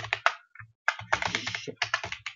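Code typed on a computer keyboard while setting up a Qt application deployment on Windows, rapid close bursts of key clicks with a brief pause, no speech.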